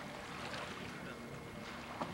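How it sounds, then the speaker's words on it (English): Steady rumble of a boat moving on water with wind buffeting the microphone, continuous and fairly loud throughout. "This is Logan's first boat ride."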